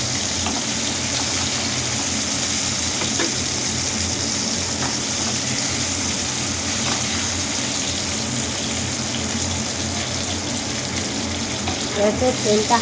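Fish roe frying lightly in a pan for a rohu fish curry, a steady continuous sizzle close up throughout, with a few faint clinks of a utensil near the end.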